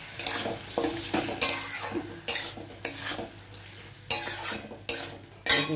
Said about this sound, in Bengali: সুন্দর করে আরও ভালো করে কষিয়ে নিতে হবে